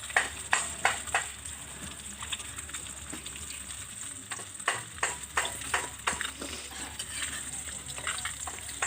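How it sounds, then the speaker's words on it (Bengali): Fish sizzling in hot oil in a village kitchen, tilapia in a pan, a continuous crackling hiss punctuated by sharp spitting pops and occasional stirring, close and fairly quiet with no talk. "মাছটা ভাজা হয়ে এসেছে"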